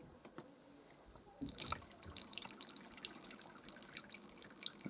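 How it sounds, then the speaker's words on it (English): Water poured into the detergent drawer of a Miele W1 toy washing machine by Theo Klein, faint trickling and dripping with small splashes that grow a little busier toward the end. "Pour some water in, which will go directly into the drum"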